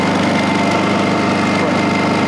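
A Honda EU2000i inverter generator runs in eco throttle mode after a repair, giving a steady, loud, close engine hum with no change in pitch.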